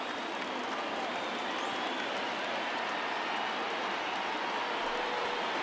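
A stadium crowd of more than 37,000 cheers in the MLB The Show 20 baseball video game, a steady, dense roar of applause and noise that holds at one level throughout.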